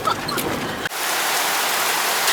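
Rain falls in a Rwandan rainforest as a steady, close hiss of drops on surfaces, briefly changing in tone before continuing evenly, with no talk.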